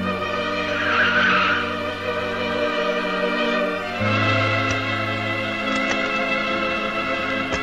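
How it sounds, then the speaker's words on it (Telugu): A car brakes hard to a stop, tires skidding with a drawn-out screech over a steady engine hum, fairly close and loud with no talking. "రాంపండు ఆపు, కారు ఆపు."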